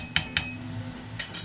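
A spoon clinks against a pot while lentil soup is stirred, a few distinct metallic taps in two pairs, close and fairly quiet, with no talking.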